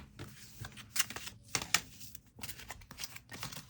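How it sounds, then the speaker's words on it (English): U.S. Games oracle deck being shuffled by hand, a run of quick, close papery riffles and slaps of slippery cards coming in uneven bursts with no talking. "They're very easy to shuffle."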